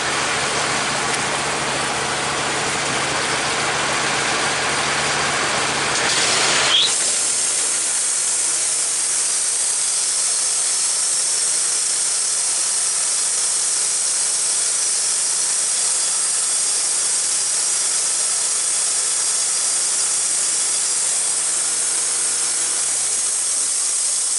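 A Woodmizer LT15 band sawmill cuts a white oak log with a loud continuous engine drone and hissing blade whine. A sharp change a few seconds in marks the blade entering the wood, and the steady cutting noise runs on alone.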